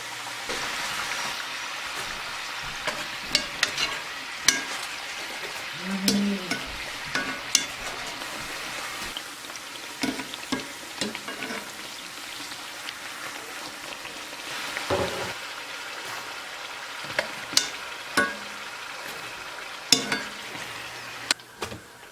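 Beignets puffing up as they fry in cottonseed oil, giving a steady close hiss and crackle with scattered louder pops throughout, and no voices.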